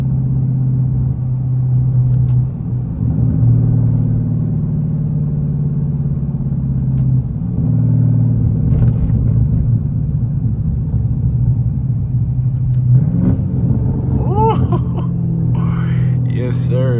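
A catless Dodge Charger Scat Pack rumbles steadily from inside the cabin while driving at low revs around 2,000 RPM, a deep continuous drone with a brief rise near the end.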